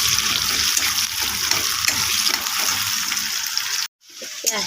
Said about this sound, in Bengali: আমি পেঁয়াজটা দিয়ে দিলাম।